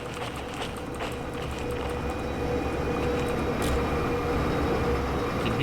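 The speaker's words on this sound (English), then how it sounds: "You can hear that the locomotive has a pneumatic leak." A locomotive in the train game Derail Valley with a pneumatic air leak: a steady rumbling engine with a constant hiss and faint tonal whine running underneath, heard continuously without speech.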